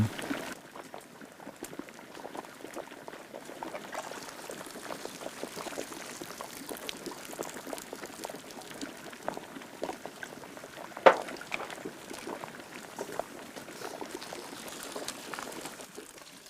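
Water coloured with chopped jackfruit heartwood bubbles and boils in a pot over a wood fire, a continuous soft rolling burble with scattered pops and one sharper splash, quiet and steady throughout.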